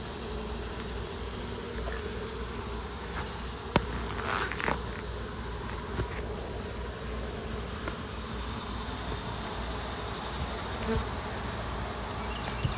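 Honeybees buzz around an open beehive in a dense, steady, close-up drone that never lets up, with a few soft knocks of hive parts being handled.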